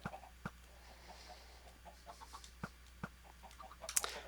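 Faint, sparse Minecraft chicken clucks and soft clicks pop up intermittently over a quiet background, with a brighter chirp near the end.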